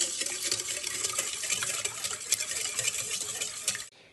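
Lukewarm milk with sugar, yeast, an egg, vanilla sugar and salt is stirred steadily in a bowl. The close, continuous scraping and sloshing runs for about four seconds and then stops abruptly.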